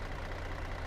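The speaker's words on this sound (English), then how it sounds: "Just listen to how beautiful the sounds are on this truck." A CAT 3406E truck engine idles with a steady, low, rumbling drone that sounds moderately close, with no talk over it.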